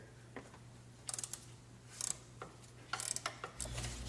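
Ratcheting wrench working a 12mm bolt loose on an engine bracket during a 4-cylinder cylinder head job, heard as several short bursts of quick metallic clicks spaced about a second apart, close and fairly quiet, no talking.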